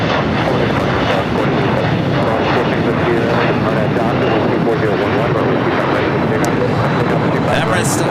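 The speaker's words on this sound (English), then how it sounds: "The Delta 767-300ER heading to JFK, making its way over here to the south side" A Delta 767-300ER jet airliner at LAX airport produces a loud, continuous engine roar that fills the whole stretch without a break, with a voice talking over it.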